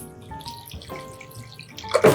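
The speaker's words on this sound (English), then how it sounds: "Add some water." Tap water running into a cooking pot while a vegan ramen broth is being made, a brief faint trickle with small clinks that swells into a louder splashing gush at the end.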